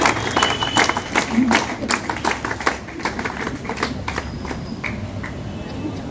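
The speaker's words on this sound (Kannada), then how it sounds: "ಎಲ್ಲರೂ ಚಪ್ಪಾಳೆ ಮೂಲಕ ಅವರನ್ನು ಸ್ವಾಗತಿಸಿಕೊಳ್ಳಬೇಕಾಗಿ" Audience clapping to welcome a guest at a Voter's Day rally at a degree college, scattered claps that are loud at first and thin out into uneven taps, with a voice speaking over them.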